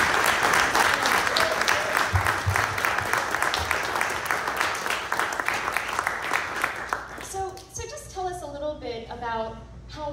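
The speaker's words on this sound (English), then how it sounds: "So can we just have one big round of applause for Ross for this book?" A sustained round of audience applause at a book event fills the room with dense, steady clapping. It fades out after about seven seconds, and then a voice begins talking.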